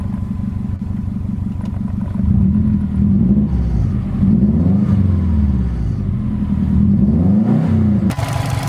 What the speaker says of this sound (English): We're gonna let it warm up and then rev it up a couple of times.